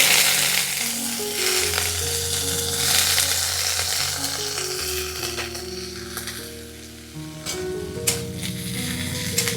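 Chopped onions sizzle in hot mustard oil in a kadai, a steady loud frying crackle with occasional stirring scrapes, while background music plays throughout.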